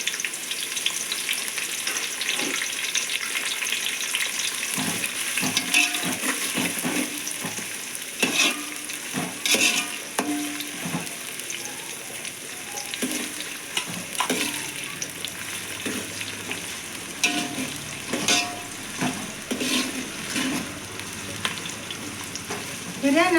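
Onion pieces and three bay leaves fry in hot oil with a continuous close sizzle, broken by frequent scraping and clinking stirs of a utensil against the pan, and a voice speaks faintly at times.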